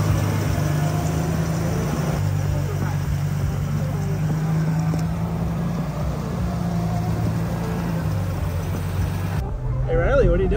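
A Jeep Comanche pickup's engine runs with a steady low rumble as the freshly finished truck rolls off, with people talking excitedly over the idling drone.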